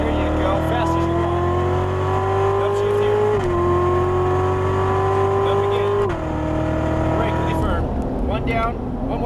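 A Chevrolet Corvette C7 Z06's engine drones loud and close on a race track straightaway, pitch rising as it accelerates, dipping briefly between gear shifts.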